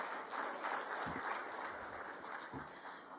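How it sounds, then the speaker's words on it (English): An audience applauds at the official closing of the India-Africa ICT Expo summit in Kigali, producing a dense, steady wash of clapping from a sizeable crowd that holds at an even level for the whole stretch. "Another round of applause for her,"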